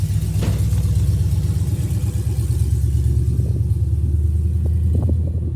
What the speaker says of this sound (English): I'm gonna let that car pass because it's extremely loud